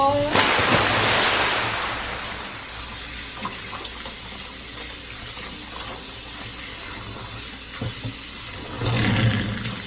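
Chicken breast being rinsed under a running kitchen tap, a steady loud rush of water splashing into a sink that swells again near the end, with no talking.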